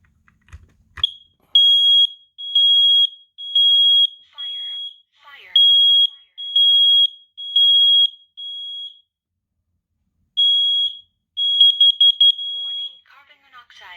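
Kidde combination smoke and carbon monoxide detectors shriek in loud, piercing bursts, a rapid series of sharp beeps repeating in groups with short gaps, close and dominating, ending in a fast stuttering run of tones.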